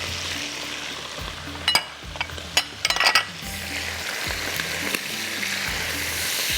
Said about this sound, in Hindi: अच्छी तरह से आपने इसको भून लेना है मसालों के साथ